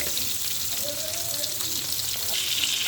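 Puti fish frying in a pan of oil, a continuous hissing sizzle at close range, steady and even throughout with a faint bubbling undertone.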